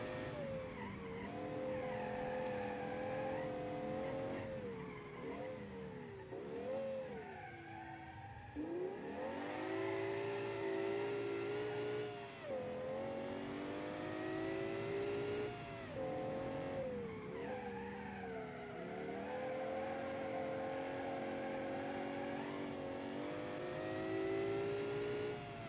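An Audi in a racing video game, all-wheel drive with front-biased power, its engine droning and revving continuously through gear changes with occasional tire squeal, loud and steady throughout with no talk.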